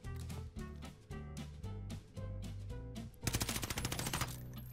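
Sniper and rapid automatic gunfire in a Fortnite match, a run of punchy repeated shots followed by a dense, louder burst of fast fire near the end, with no voices over it.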